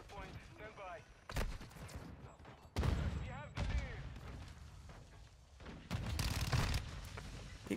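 Bursts of gunfire in Call of Duty Modern Warfare strike the player in loud, close volleys separated by short gaps, while a voice talks over the action.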